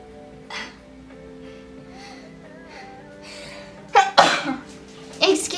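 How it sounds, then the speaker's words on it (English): A sharp sneeze bursts out after a stretch of quiet room tone, followed by a second forceful sneeze a moment later, close and loud. "I'm just sneezing."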